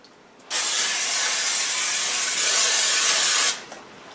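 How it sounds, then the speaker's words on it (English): Cooking spray hisses from an aerosol can onto a baking pan for cinnamon buns in one continuous, close, bright burst lasting about three seconds, with a quiet room before and after. "Have your pan sprayed."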